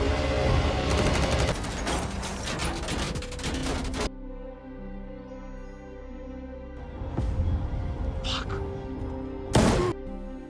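Rapid movie gunfight fire in a dense burst of crackling shots, then quieter stretches with scattered single shots and thuds, under someone narrating.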